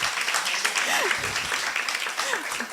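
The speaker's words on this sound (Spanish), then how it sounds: "Ahora sí aplaudan." An audience at a university seminar breaks into loud, sustained applause, a dense wash of clapping with faint voices mixed in.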